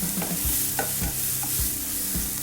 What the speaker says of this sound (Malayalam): ഹൈ ഫ്ലെയിമിൽ വെച്ച് കഴിഞ്ഞാൽ നമുക്കിത് വഴറ്റിയെടുക്കാം